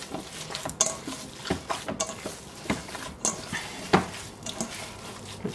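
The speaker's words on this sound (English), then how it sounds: "Now you want to keep mixing this until it goes velvety and soft and smooth." Greek keftedakia meatball mixture is worked in a bowl, producing wet, squelching stirring strokes with occasional clinks of a spoon against the bowl, repeating in an uneven rhythm, no talk.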